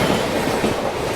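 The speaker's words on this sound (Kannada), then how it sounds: "ಯಾವುದೋ ಒಂದು ಟ್ರೈನ್ ಫುಲ್ ಹೈ ಸ್ಪೀಡಿಂದ" A high-speed train rushes past close by on a busy line in the Bundelkhand region, a loud, continuous rumble with rapid wheel clatter throughout and no talk.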